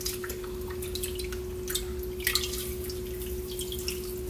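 Maesaengi seaweed fulvescens is swished and loosened in water in a kitchen, giving small splashes and irregular drips over a steady low hum, close by.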